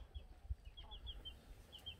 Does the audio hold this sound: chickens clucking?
yes